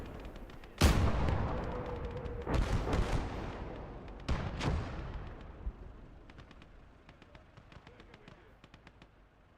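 A weapon firing in battle: three heavy booms spaced a couple of seconds apart, each trailing into rumble, followed by fainter scattered pops in the distance.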